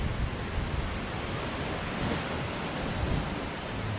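Sea surf breaks on a rocky shore at high tide during a sea-fishing trip, forming a continuous, full roar of churning water that is mixed with wind buffeting the microphone and carries on unbroken without any talking.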